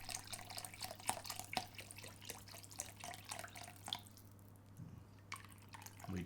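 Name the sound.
vegetable stock being poured for baked risotto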